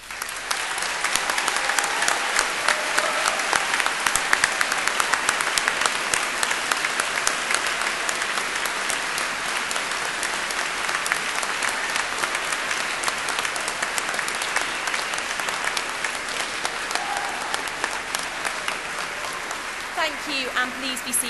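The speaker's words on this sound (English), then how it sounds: "giving them all an enthusiastic round of warm applause" A large graduation ceremony audience at Cardiff University gives a long, enthusiastic round of applause, a dense and sustained roar of clapping lasting about twenty seconds before gradually thinning toward the end.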